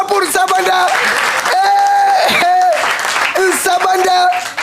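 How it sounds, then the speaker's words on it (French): Applause from an audience at a show, mixed under loud music with a sustained tonal melody and a voice, the clapping continuous but partly masked throughout. "Applaudissez encore pour Sabanda."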